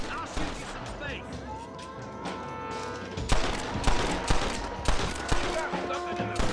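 Gunfire in the Red Dead Redemption video game: a shootout of sharp shots and cracks that turns denser and louder halfway through, mixed with game music and shouted voices.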